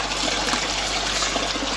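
Water trickles steadily through the siphon of a homemade aquaponics grow bed, a continuous close, even flow with soft splashing and no talk.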